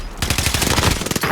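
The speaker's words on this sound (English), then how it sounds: "Under heavy fire here! nice me. Tell you, fucking. They're shooting at me." Dense automatic gunfire in the video game Call of Duty Warzone, rapid bursts of shots stacked close together and loud throughout, with no pause in the firing.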